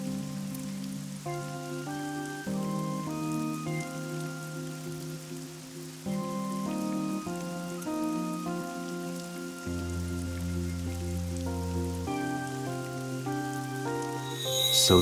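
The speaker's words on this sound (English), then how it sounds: "It's raining." Rain falling in the video game AI: The Somnium Files, a steady hiss of rain on surfaces under sustained music chords, continuous throughout and swelling slightly louder at the very end.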